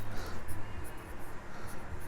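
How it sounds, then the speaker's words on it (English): A measurement is written by hand directly onto a workpiece while a bandsaw circle-cutting jig is being built, producing a close scratchy scribbling of quick strokes that stop and start in short bursts. "I'm just going to write it straight on here."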